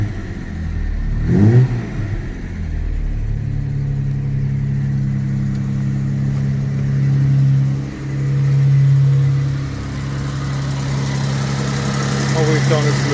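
A 1968 Jaguar MK2 240 with manual gearbox and overdrive fires up and settles into a steady, close engine note with a couple of swelling revs, voices briefly audible over it.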